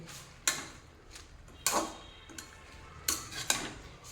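Garlic spinach cooking over a low flame in a pan, stirred with a utensil that makes four or five sharp clinks and scrapes against the metal, separated by quiet gaps with a faint simmer beneath.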